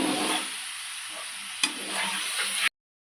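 Spiced masala with sweet and sour yogurt fries in a pan and is stirred, making a steady, close sizzle with one brief knock from the utensil before it stops abruptly.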